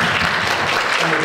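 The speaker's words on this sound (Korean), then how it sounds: "박수 같이 부탁드립니다." Church congregation clapping together during a Korean-language service, a steady dense wash of applause filling the whole short moment.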